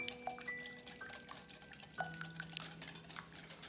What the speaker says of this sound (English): Get this all whisked up, blended together.